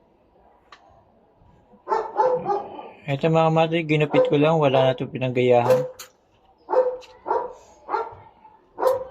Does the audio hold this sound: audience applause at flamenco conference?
no